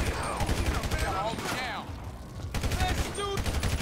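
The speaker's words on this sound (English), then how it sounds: "I got him with a couple shots." Gunfire in the video game GTA 5: a rapid volley of sharp shots, then more bursts after a brief lull, with a voice talking over the action.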